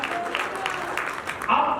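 Congregation clapping during a church sermon, a brief patter of scattered applause from the gathered worshippers under a preacher's voice, ending as speech rises again.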